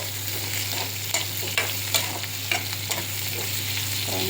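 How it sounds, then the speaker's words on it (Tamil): Onions and pumpkin sauté in a pan for a Chettinad tamarind curry, a steady soft sizzle broken by a few spoon scrapes and taps from stirring, with no voices. "வெங்காயம் வதங்கிடுச்சு இப்போ வந்து இந்த பரங்கிக்காவும் போட்டு"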